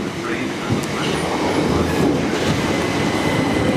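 A train rolls past at close range, a loud continuous rumble with rhythmic wheel clatter and faint squeals. Wind buffets the microphone throughout, and no one speaks.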